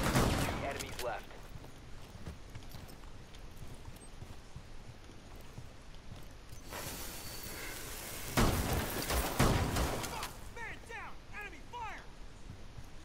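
Gunfire in the tactical shooter game Rainbow Six Siege, sharp bursts of shots mixed with clattering impacts, loudest in two dense volleys midway through, with players talking over the action.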